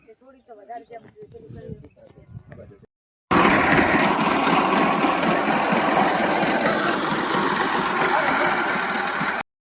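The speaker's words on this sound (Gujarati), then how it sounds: "ટ્રેક્ટરેથી ગાડી કાઢવાની છે" A tractor engine used to pull a car out of mud drones loudly and steadily for several seconds after a short stretch of nearby talk.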